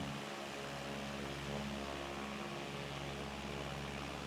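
A Cessna 172 propeller engine in a flight simulator drones steadily on approach to Bankstown, a constant even hum with no voices.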